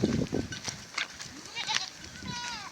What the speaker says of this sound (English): a group of goats and sheep.